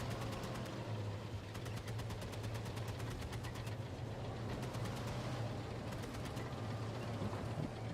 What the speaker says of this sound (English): We got some gunfire up ahead.